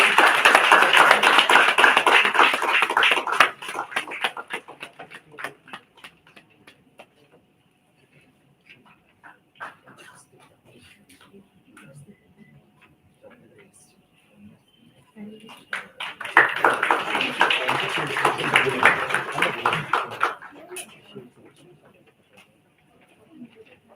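Applause at a student film festival after a short film winner is named: a burst of crowd clapping that fades to scattered claps and quiet, then a second swell of clapping before dying away.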